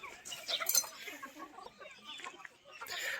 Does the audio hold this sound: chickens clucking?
yes